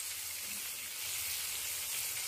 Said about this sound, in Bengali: নাড়িয়ে দিয়ে একটা টমেটোটাকে হলুদ লবণ দিয়ে নরম করে নিচ্ছি।